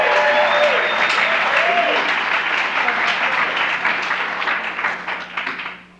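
Applause from the audience at a Friday night Alcoholics Anonymous meeting in Westwood, a dense wash of clapping that stays steady and loud, then thins out and fades toward the end, with a voice heard briefly over it.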